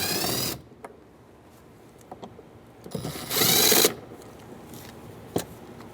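A power tool with a socket extension spins out 10 mm bolts inside a 2007-2015 Mazda CX-9 door, two short loud whirring bursts separated by quieter handling clicks.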